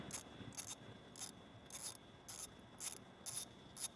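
A 5/16 ratchet wrench clicks in quick repeated bursts, backing bolts off the intercooler manifold bracket on a Powerstroke diesel engine; the sound is faint and close.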